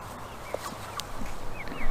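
A calm pet hen being treated gives soft, faint clucks and brief murmuring calls against a low steady background hum.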